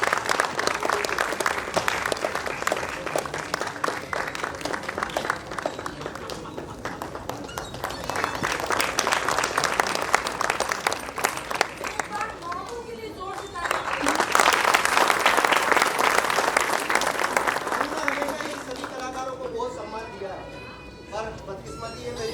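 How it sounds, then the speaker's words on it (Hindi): Loud, prolonged applause from an audience at an award ceremony, swelling and fading in waves with crowd voices mingled in, tapering off near the end. "जोरदार तालियां।"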